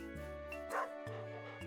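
A cartoonish dog bark from the Stardew Valley Expanded video game, a short yip sounding once over steady game music with tonal background chimes.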